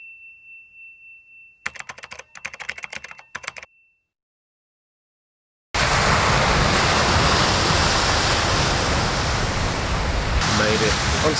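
Early-morning beach on a remote point of the UK mainland: after a burst of tapping and a silent gap, a loud, continuous roar of surf and waves fills the rest.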